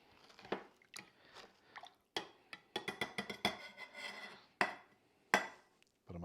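Jalapeno and cilantro being muddled for a spicy hibiscus martini, giving a run of close, wet crunching and grinding strokes in irregular bursts, each pressing stroke distinct and fairly loud.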